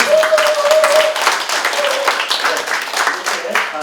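Applause from the audience at a public policy forum, steady dense clapping filling the whole stretch at close range, with a voice speaking over part of it.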